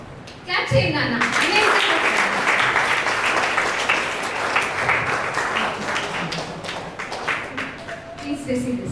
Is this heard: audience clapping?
yes